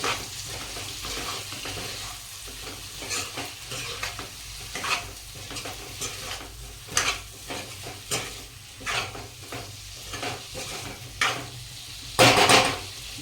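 A spoon stirs spiced potatoes sizzling in a pan after coriander and lemon juice go in, for a bhungla bateta dish: steady close frying hiss with repeated scraping strokes and a sharp metallic clink near the end.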